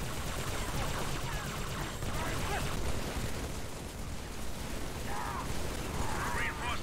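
Heavy gunfire in a Halo 3 battle, a dense, continuous roar of shots and blasts that never lets up, with faint voices buried in the din.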